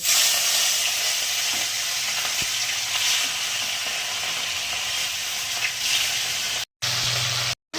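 Pieces of katla fish fry in hot oil for a fish curry with potato and lentil dumplings, giving a steady loud crackling sizzle with faint stirring sounds, briefly cut off near the end.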